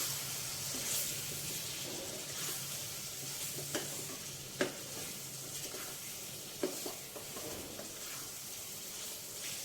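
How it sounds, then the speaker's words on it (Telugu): Prawns fry in a pan for a gongura curry, a steady soft sizzle and hiss with occasional scrapes and taps of a stirring spoon, quiet and close. "ఇవి రొయ్యలు బాగా వేగాలండి."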